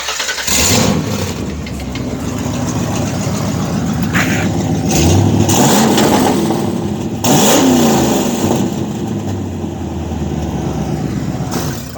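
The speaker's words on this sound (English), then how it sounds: "What did you do to the fucking exhaust? Just uncapped headers." A 1994 Mustang GT V8 with uncapped exhaust headers revs loud and close, its raw, open exhaust rising and falling through several throttle blips across the whole stretch.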